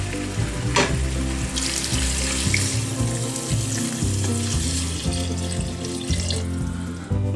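Five cups of water poured into a pot for habanero hot wings, a continuous splashing pour over sizzling, with a few clinks, close and alone.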